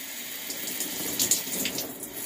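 Warm water runs steadily from a tap in a close, continuous splashing stream.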